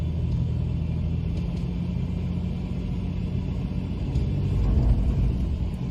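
A Toyota 4Runner engine labours in four-wheel drive while pulling a cabin by chain. It makes a deep, steady rumble that swells a little louder near the end, with no voices.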